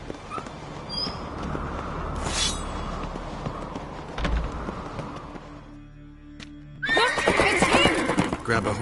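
Horse whinnies and hoofbeats in The Witcher 3 game world during a chase setup, with a loud neigh and clopping near the end over ambient game sound and soft background voices.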